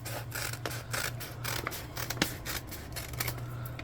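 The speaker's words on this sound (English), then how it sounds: "you're just going to cut off the far edge of your paper bag" Scissors snip through the far edge of a paper bag, close and fairly quiet, with repeated short crisp cuts and rustling paper over a low steady hum.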